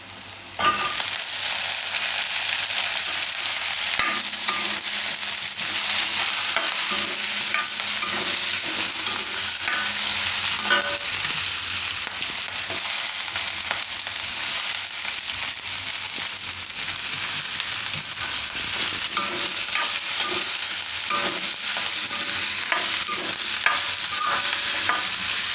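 Broccoli stir-frying in a pan for cheese broccoli fried rice, a loud, continuous sizzle with the scrape and clatter of a spatula tossing the florets throughout, no voices.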